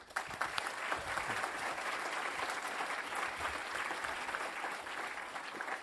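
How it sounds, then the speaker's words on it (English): A conference audience applauds steadily, a dense wash of clapping that holds at an even level for several seconds. "if you all could help me in giving a big thank you and applause"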